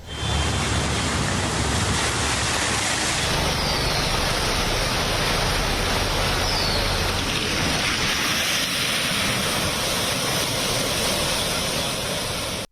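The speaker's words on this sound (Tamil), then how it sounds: "பல மாவட்டங்களில் கனமழையானது கொட்டி தீர்த்தது" Heavy rain pours down across North India in a dense, continuous roar of hissing water that stays loud and steady throughout with no voices, then cuts off abruptly at the end.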